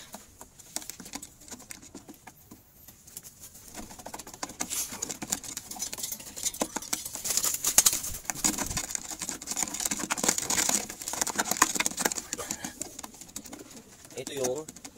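Racing pigeons in a loft coo softly amid wing flutters and pattering movement, with a voice talking nearby over a busy, close background.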